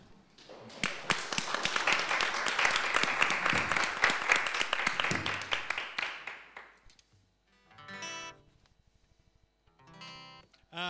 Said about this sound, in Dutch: Gerard, mag ik een hard applaus alsjeblieft?